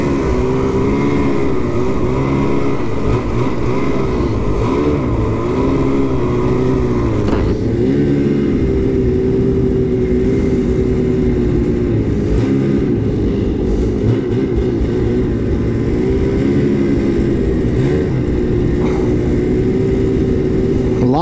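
A 2022 Ski-Doo Renegade X-RS 850 snowmobile engine drones loud and close for the whole stretch, its pitch rising and falling as the throttle is worked, with no talking.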